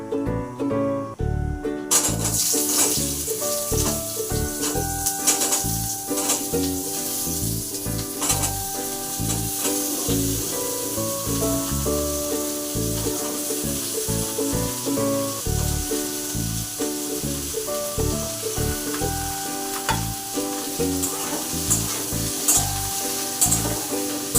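Okra chachchari with red chillies frying in a pan, a steady loud sizzle with scattered stirring clatter and scraping throughout, no voices.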